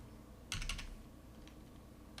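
A few quick keystrokes clatter on a computer keyboard in a short burst near the start, then one lighter tap later, quiet and close against a soft room hum.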